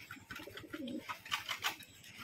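Breeder pigeons give soft, low coos up close, a short run of throaty murmurs at a quiet level.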